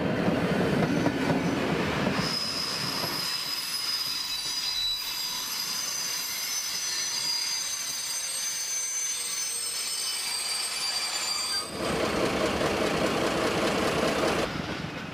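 A Romanian CFR diesel railcar runs along the track with loud, continuous rolling rumble, clattering wheels and a sustained high-pitched wheel squeal across the middle stretch, heard close by with no voices.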